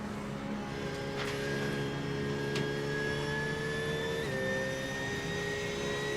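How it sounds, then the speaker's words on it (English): A steady, high-pitched GT3 race car engine in the iRacing video game whines continuously with slight pitch shifts on a final lap at Spa-Francorchamps, a constant droning tone throughout without speech. "Just trying to listen out to the engine here of Pucalka on this final lap here."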